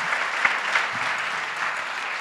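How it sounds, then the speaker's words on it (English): Audience applause at an entrepreneurship competition as the top six finalists are recognized, a steady wash of clapping at moderate volume lasting about two seconds, with no voices over it. "So can we give first just a round of applause for the top 6?"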